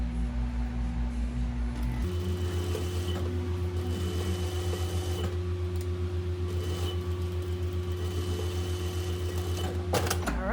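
A sewing machine stitches the hem of a pajama shirt with a steady, fast, humming whir that runs almost without a break, close and fairly loud, with a brief change in pitch near the start.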